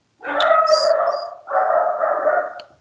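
A dog barks indoors, two sustained, loud barking bursts close to the microphone with no talk over them.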